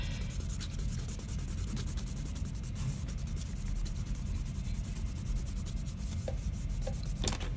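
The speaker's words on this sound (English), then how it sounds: "now I'm going to erase most of these lines" An eraser rubs steadily back and forth over sketch lines on paper, a soft, continuous scratchy scrubbing heard up close with no talk.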